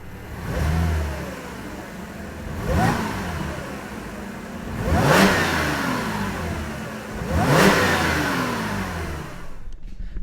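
A 2012 Audi S4 with a supercharger and stock intake revs four times in succession from idle, each blip rising and falling quickly, heard close with a steady idle between.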